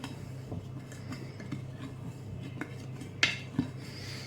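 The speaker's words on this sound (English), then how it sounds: "so you can give that a nice stir" A spoon stirs hot chocolate mix in a pot, giving quiet scattered clinks and scrapes of metal on metal with one sharper clink near the end.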